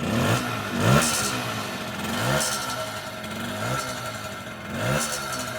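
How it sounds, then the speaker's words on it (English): A 1974 Honda MR50 motorcycle engine runs steadily after a carburetor adjustment, close and loud, with a few rhythmic rises in revs and a rattly mechanical clatter throughout. "let's get that carburetor set where we just barely kick it and it cranks"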